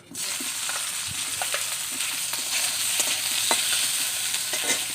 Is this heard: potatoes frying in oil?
yes